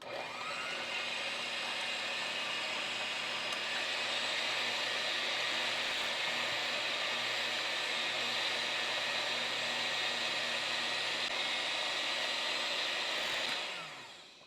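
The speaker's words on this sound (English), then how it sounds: "slowly, on about a medium, is begin to work our egg whites until they become like a little frothy" An electric mixer whisks egg whites on medium speed for a Spanish rolled sponge cake, giving a steady, bright motor whir that stays loud and even for about fourteen seconds before winding down, close up with no talking.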